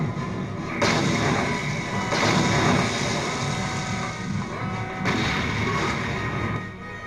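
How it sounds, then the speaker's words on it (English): Explosions in the video game Knights of the Old Republic rock the bridge of the Endar Spire, loud booming blasts that arrive in several surges over a constant rumbling roar, heavy and close. "get a good explosion in the center of the Endar Spire bridge"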